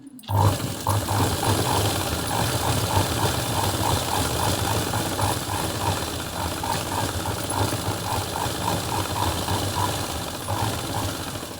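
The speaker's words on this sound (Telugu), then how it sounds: "ఇక పైనుంచి ఇంకో స్టిచ్ వేసుకుందాం" A sewing machine stitches a dress top with a loud, continuous rapid mechanical rattle that runs steadily after a brief start.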